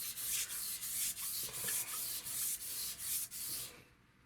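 Sandpaper rubbed back and forth over a scratched, gouged bathroom sink, about ten steady rasping strokes in a quick even rhythm, close and fairly loud, ending in quiet.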